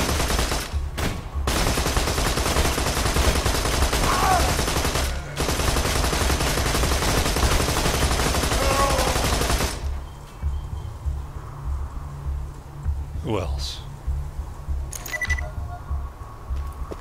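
Gunfire in Borderlands 2 rattles loudly against a vehicle in dense continuous bursts for about ten seconds, broken by a couple of brief gaps, then drops to quieter engine rumble with scattered distant shots.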